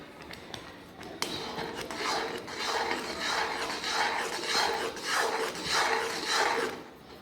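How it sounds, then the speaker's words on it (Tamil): Almond halwa with ghee being stirred in a pan: steady, rhythmic scraping and rasping strokes of a spoon against the pan, close and moderately loud, repeating about once a second. "கைவிடாமல் இப்படி கிண்டிகிட்டே இருக்கணும்"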